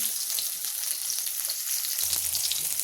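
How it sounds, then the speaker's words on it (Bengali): Pointed gourd and other vegetables frying in hot oil for a fish curry, a loud steady sizzle and crackle running the whole time with a brief stir-like rustle near the end. "প্রথমে সবজিগুলোকে আমি ভালো করে ভেজে নিই"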